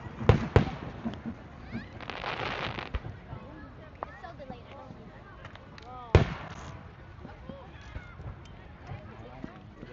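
Canada Day fireworks over Downsview Park, Toronto crack and boom at a distance, with sharp bangs around the start and a louder burst near the middle, while people chat nearby throughout.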